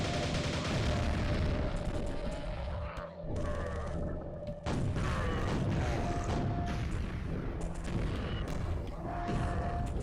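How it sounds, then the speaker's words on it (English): Grenade explosions in the video game Quake 1 come as a series of loud, heavy booms in a dense, noisy gunfire-filled stretch, with dull impacts rolling through. "Stop shooting grenades at me."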